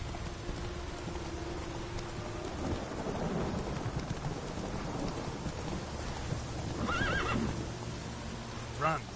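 Roach, a horse in The Witcher 3, whinnies amid steady rain and rolling thunder, with brief game speech mixed in and a couple of short neighs near the end.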